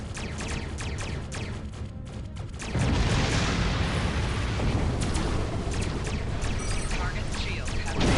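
A Star Trek game ship explodes with a heavy sustained rumbling blast that swells abruptly about a third of the way in and roars on loudly, with clicky game effects beforehand and a voice over the noise.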